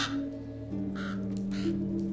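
A crow caws in a short, loud burst of two or three harsh calls, close by over a steady low hum.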